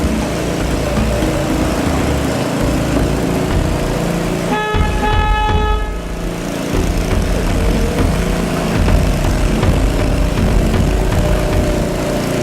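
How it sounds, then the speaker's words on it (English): A single boat horn blast of about a second sounds over a steady, loud motor rumble that runs throughout, on a river boat ride along the San Antonio Riverwalk. "I'm going to honk the horn here also to let boats know that we're coming out of this section."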